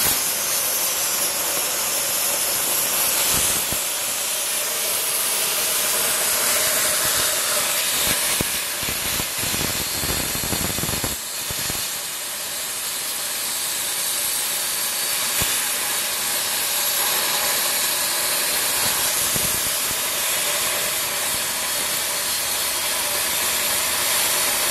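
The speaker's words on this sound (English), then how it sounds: "Obviously the compressor started." An air compressor runs for a 2 m by 1 m plasma cutting table, giving a steady, loud broadband hiss and rush that fills the whole stretch with small surges and no talk.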